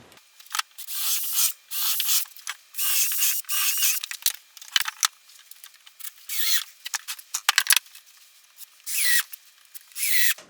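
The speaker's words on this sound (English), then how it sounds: "I'm going to use a countersink to help me not split this board." Short bursts of rough, high-pitched whirring and grinding come from a countersink bit and screws being driven to join wooden boards for a grave marker, repeated about a dozen times at close range with brief pauses between.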